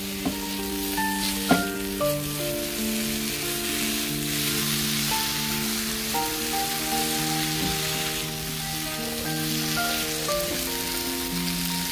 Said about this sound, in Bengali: আর আমি এখানে সবশেষে মাশরুমগুলোকে কিছুক্ষণ ফ্রাই করে নিব